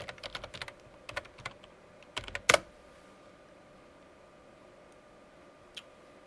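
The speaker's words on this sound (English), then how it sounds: "open up a command prompt and type in ipconfig/all" Keystrokes on a computer keyboard as a command is typed at a desk, with quick clusters of crisp clicks, a short pause, then a firmer burst and one final isolated tap, all close and fairly quiet.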